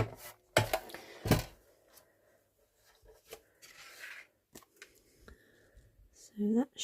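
Thick paracetamol box card being cut by hand, a few sharp snipping and crisp cutting strokes close by, separated by quiet gaps and light handling rustle.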